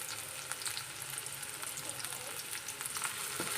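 Tomatoes and curry leaves sautéing in a pan for a Malvani-style white vatana usal give a steady, close frying sizzle with faint crackles throughout.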